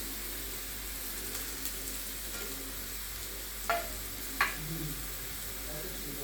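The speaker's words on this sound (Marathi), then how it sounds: "कोथिंबीर टाकूया" Coriander dropped into a hot pan with squeezed grated radish for radish paratha filling, giving a steady soft sizzle with a couple of brief crackling bursts near the end, quiet and close.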